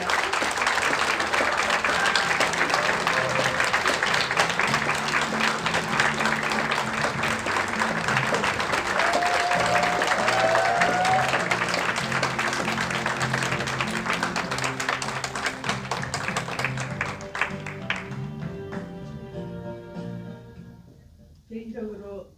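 Warm, sustained audience applause greets a speaker taken to the podium at a peace forum on Jeju 4.3, dense and steady clapping filling the hall before fading out near the end.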